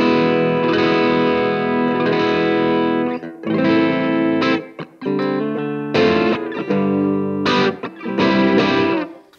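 An electric guitar played through a Blackstar AMPED 2 amp pedal, loud and close, with distorted, effected sustained chords, then choppier bursts separated by short gaps. No voice is heard over it.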